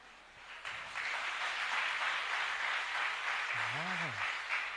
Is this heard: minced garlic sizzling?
no